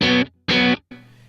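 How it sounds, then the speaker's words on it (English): Clean, dry electric guitar through a Kemper profiling rig plays short distorted strums, two loud bursts with clean cutoffs and then a softer third hit, heard close with no voice. "I want my dry sound like this"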